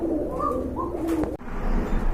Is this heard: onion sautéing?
no